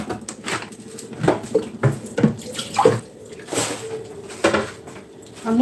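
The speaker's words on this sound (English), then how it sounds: "I need to wash the pot I want to use." A cooking pot being washed under a running kitchen tap, splashing water with irregular clanks and scrubbing bursts close by.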